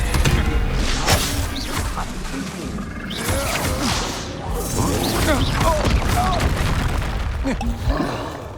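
Spell blasts, including the fire spell Confringo, in the video game Hogwarts Legacy, heard as loud, dense bursts of booms, crashes and whooshes over a continuous battle din, with shouted spell incantations mixed in.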